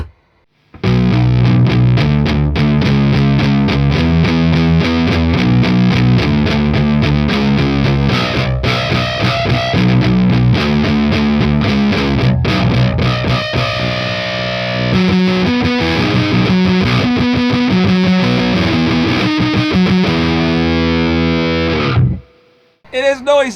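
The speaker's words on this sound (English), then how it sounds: "What a fun fuzz pedal." Electric guitar played through a boosted Analogwise Skyrocket handmade fuzz pedal: a loud, thick, saturated distorted tone with sustained chords and riffs, dense and continuous before cutting off near the end.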